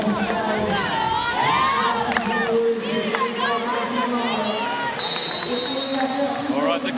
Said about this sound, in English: the crowd in great voice here